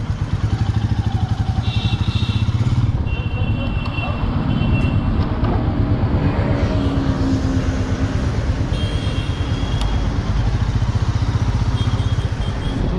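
A Royal Enfield Meteor 350 Supernova motorcycle being ridden, its engine a steady loud rumble with wind and road noise throughout, no talk.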